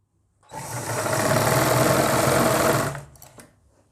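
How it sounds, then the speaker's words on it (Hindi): A sewing machine runs a continuous, even stitch along a palazzo seam at a half-inch margin. The whirring is close and steady for about two and a half seconds, then it winds down to quiet handling noise. "यहाँ पक्का करके सिलाई लगाएंगे।"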